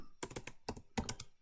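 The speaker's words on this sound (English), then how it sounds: "And start typing." Close, crisp keystrokes on a computer keyboard come in quick irregular clusters, several sharp taps separated by brief pauses.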